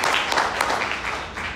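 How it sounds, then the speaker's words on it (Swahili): An audience applauds TANESCO at a public event, a steady, dense wash of clapping that stays fairly loud and even for the whole stretch. "Meneja, tukupigieni makofi tena TANESCO kwa namna mlivyolibeba jambo hili."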